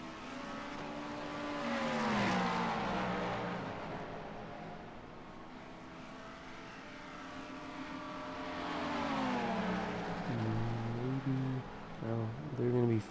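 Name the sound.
race car engines in a sprint car racing video game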